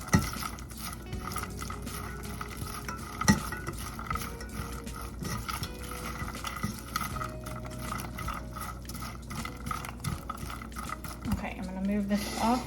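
Pork puffs being stirred in a pan on a hot burner, with a continuous light sizzle and scraping under a voice talking throughout.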